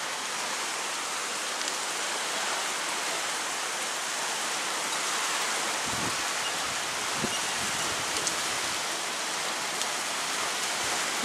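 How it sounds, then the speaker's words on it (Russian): Steady heavy rain falling during a storm near a river, a dense continuous hiss with a few faint knocks partway through. "Мы бы сейчас попали под дождь."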